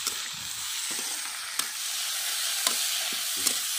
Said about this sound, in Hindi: टमाटर प्याज के संग भून लेते हैं